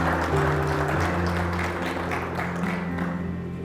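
A church congregation applauds during a Spanish-language service, a steady wash of clapping held for a few seconds with faint sustained musical tones underneath.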